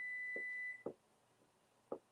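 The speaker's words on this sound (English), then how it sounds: "I hear beeping." Electronic beeping indoors: a steady high tone runs for a moment and then cuts off, followed by two short, fairly faint beeps spaced about a second apart, with no talk.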